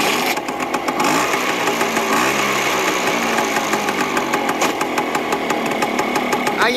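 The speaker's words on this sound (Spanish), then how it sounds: "ahí arranca la moto" A motorcycle engine runs loud and steady close by, a dense mid-range mechanical roar with rapid pulsing, continuing throughout with no voices over it.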